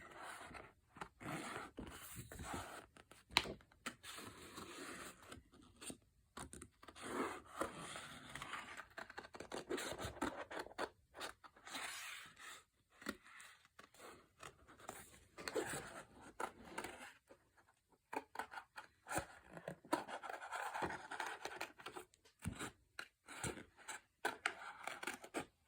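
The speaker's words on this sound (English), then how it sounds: "I'm just going to cut around the flower shape" Scissors snipping around a flower shape cut from wallpaper-backed cardstock, a steady run of faint, close crisp cuts and paper rustles with brief pauses.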